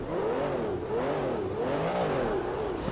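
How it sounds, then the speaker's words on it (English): An Aston Martin in GTA 5 revs its exhaust in a continuous, loud engine drone that rises and falls in repeated pitch sweeps, with no talking over it. "I'm pretty sure this is gonna be having nice exhaust."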